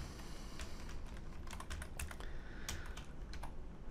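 Rapid clattering keystrokes on a computer keyboard while entering CSS code, with irregular bursts of key presses over a steady low background hum.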